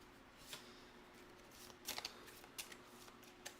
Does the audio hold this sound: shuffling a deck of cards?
yes